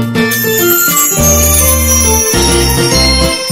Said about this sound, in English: Here's jingle bells for you!